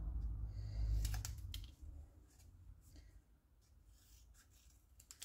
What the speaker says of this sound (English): Now I'm going to just snip